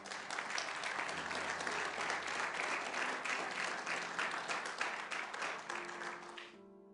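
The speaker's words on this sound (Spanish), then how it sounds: "Denle un aplauso a Cristo" A crowd applauds steadily, dense clapping filling the room at moderate volume, then tapering off at the end.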